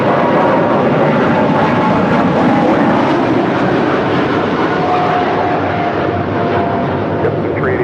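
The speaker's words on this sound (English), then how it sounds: "This is Nippon Cargo Airlines 101 departing to Tokyo Narita on a 747-8 freighter" A Nippon Cargo Airlines Boeing 747-8 freighter departs for Tokyo Narita with a loud, sustained roar of jet engines, broad and steady throughout, with a faint tonal whine rising in the middle.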